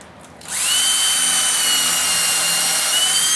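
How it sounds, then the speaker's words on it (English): A power drill bores pilot holes for screws into a wooden trailer floor, its motor spinning up after a brief quiet start into a loud, steady, high-pitched whine held close to the mic. "I put pilot holes for my screws."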